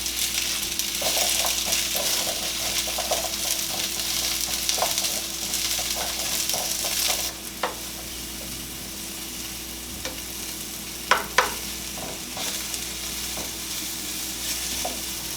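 Zucchini fries in oil with a steady crackling sizzle, broken by repeated scraping stirs and a few sharper knocks of the utensil against the pan.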